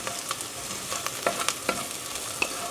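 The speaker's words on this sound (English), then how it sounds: "So what I'm going to do now is drop in the basil. get that going and make sure everybody is" Shallots and basil sauté in a pan for a keto creamy tomato soup, giving a continuous close sizzle with scattered pops and the scrape of stirring, and no talking.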